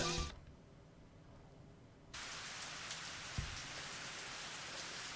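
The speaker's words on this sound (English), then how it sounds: "The rain was still coming down." Rain in the Higurashi video game: a quiet, muffled patter at first, then a bright, steady downpour hiss that swells in abruptly and holds, with one soft thump partway through.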